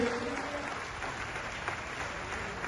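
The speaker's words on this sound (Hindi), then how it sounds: "एक बार आप लोग अच्छी करतल ध्वनि के साथ स्वागत कर दीजिए।" Steady applause from a crowd welcoming guests at a religious gathering of saints, a dense wash of clapping that holds evenly throughout.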